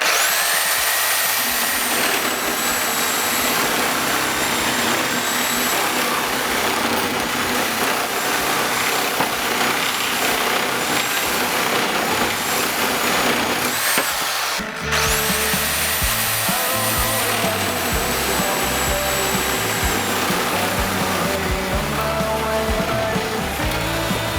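A Dnipro-M reciprocating saw cuts through two stacked 150x50 wooden boards, a loud continuous whining buzz with shifting pitch that runs throughout, interrupted by a brief dip near the middle before resuming.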